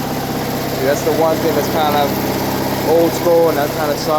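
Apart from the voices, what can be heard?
1992 Scag zero-turn mower engine running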